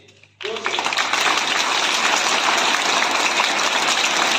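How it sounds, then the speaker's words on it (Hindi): A group of students claps together in a dense, sustained burst that starts abruptly and continues steadily for several seconds, loud and close. "अब एक जोर से हाथ से ताली बजा करके हाथ नीचे।"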